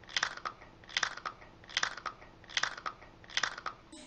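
Someone bites and chews Doritos Nacho chips, with five loud, close, crisp crunches evenly spaced and nothing else around them.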